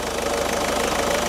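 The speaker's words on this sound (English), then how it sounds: "Start the engine up, everything disconnected." Ford Focus MK3.5 engine idling with its AC compressor clutch disconnected, a steady close rhythmic knocking hum that stays even throughout.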